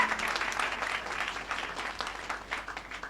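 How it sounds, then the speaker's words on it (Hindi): An audience claps at a motivational gathering, a dense, even burst of applause from many hands heard up close for a few seconds. "तो जब भी ताली बजाएं, ज़बरदस्त ताली बजाएं।"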